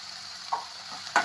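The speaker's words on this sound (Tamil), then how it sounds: "ஒரு பொன்னிறமாக வறுத்துக்கிடலாம்" Green chillies and curry leaves frying in oil for a Nagercoil-style squid roast, a faint steady sizzle with two short stirring scrapes, the second louder, and nobody speaking.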